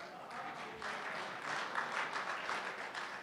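Faint applause from the audience at a Republic Day kavi sammelan and mushaira, steady clapping for a recited verse, distant and soft throughout.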